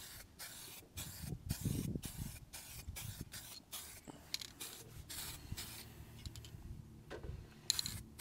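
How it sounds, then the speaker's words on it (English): Montana matte varnish spray from an aerosol can misted over a model railroad building, heard as a series of short, close hissing bursts with brief pauses between them. "finish this thing off in between coats with some Montana matte varnish spray"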